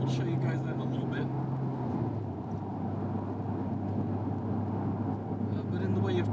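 A tuned Nissan Skyline R34 with an aftermarket intake, exhaust and Blitz intercooler idles nearby, a steady low engine drone with a slight drop in pitch partway through, and a voice talks over it.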